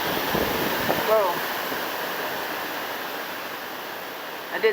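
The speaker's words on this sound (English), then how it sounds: "there are some pretty nice gusts out there" Strong gusts from Hurricane Irene roar as a steady, loud broadband rush outdoors, with a brief surge near the start and a short voice at the end.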